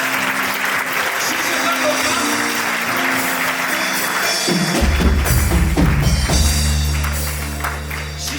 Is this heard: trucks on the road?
no